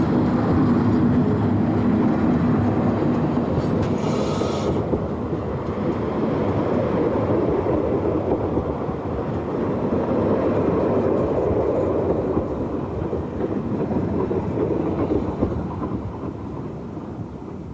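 An SNCF BB 16500 electric locomotive, number 16507, hauls a passenger service from Lille, producing a loud, steady rumbling roar of train passage that swells and fades slightly, with no voices.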